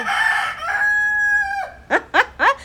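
A free-roaming rooster in the Cayman Islands crows loudly and close by, one long drawn-out cock-a-doodle-doo followed by three short, sharp rising calls in quick succession, with no talk.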